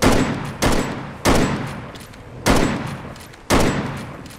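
Five heavy gunshots in the Bigfoot video game, fired singly at an uneven pace about a second apart, each a loud, close crack that decays into a rumbling tail, with no talking.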